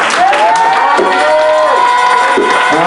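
A church congregation cheering and acclaiming, loud massed voices shouting and whooping together with rising and falling cries, close and filling the space.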